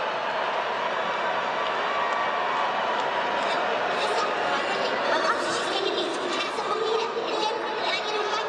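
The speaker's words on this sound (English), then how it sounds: "the crowd goes wild here in a full capacity Coors Field" A full-capacity crowd cheering at Coors Field in Denver during a baseball game, a steady roar of voices, chatter and whoops filling the stadium without pause.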